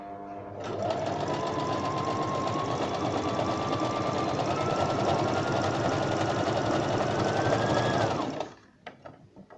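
A Brother BM 3700 sewing machine runs steadily for about eight seconds, stitching a cover-stitch-style seam at an even, rapid whir, up close and with no talking, then stops abruptly.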